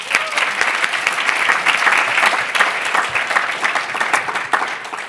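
A conference audience at a PyData London 2022 lightning-talk session gives a full round of applause, a dense, even roar of many hands clapping steadily and loud, with no one speaking over it.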